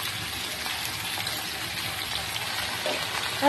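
Beans, potatoes, onions and small fish frying in a pan give a steady, close sizzling hiss that holds evenly throughout, with a brief louder crackle at the very end; no one speaks.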